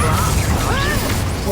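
Confringo blasting spell cast in the Hogwarts Legacy video game, a dense continuous magical burst with whooshing, sweeping tones layered over constant game noise, loud and close throughout.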